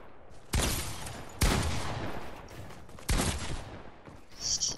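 Fortnite gunfire: three sharp, loud shot bursts spaced a second or two apart, each with a ringing tail, over faint game ambience.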